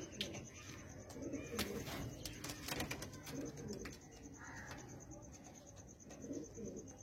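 Pigeons in a loft coo in low repeated bursts close by, with scattered chirps, a steady high-pitched hum and some talk mixed in.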